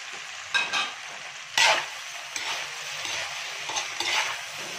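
Tofu frying in oyster sauce in a pan with red chili peppers added, stirred with a utensil; a steady close sizzle runs throughout, with several sharper scraping stirs on top.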